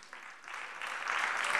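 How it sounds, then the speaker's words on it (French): Audience applause at an awards gala, a continuous dense wash of many hands clapping that swells louder over about a second and a half, with no voices on top. "n'hésitez pas, vous pouvez les applaudir"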